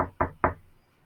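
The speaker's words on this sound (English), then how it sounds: "Nell rapped sharply on the door." Three sharp raps on a door in quick succession, close and loud, then quiet.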